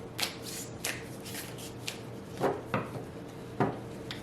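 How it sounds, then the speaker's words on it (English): A tarot deck is shuffled by hand, with several crisp riffles and a few soft taps of cards settling, close and alone. "Definitely a little hard to shuffle"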